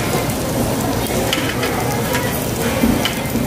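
Onion sizzles and crackles on a hot Korean barbecue grill, giving a steady, loud frying hiss throughout with faint stirring and clinks.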